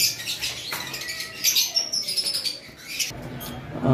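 Pet birds, including a blue conure, calling and chirping in a cage area, with bright overlapping chirps and tweets at moderate distance, fluttering bursts, and no talk.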